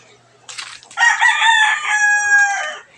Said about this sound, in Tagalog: Ay, lalo talaga manok dyan.